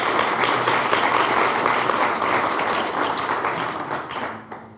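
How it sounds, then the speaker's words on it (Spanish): Warm applause from an audience at a communications research gathering, many hands clapping densely and loudly, then thinning and fading out toward the end. "para quienes quiero pedir un caluroso aplauso"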